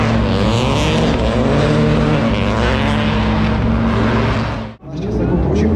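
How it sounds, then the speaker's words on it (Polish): An Opel Corsa R2 rally car races along a stage of the Rajd Barbórka Warszawska on Karowa street, its engine roaring loud and close for several seconds, briefly cutting out, then revving again, with commentary over it. "Rafał Kręciuk i Marcin Drewniak, Opel Corsa. Kolejny samochód z klasy R2."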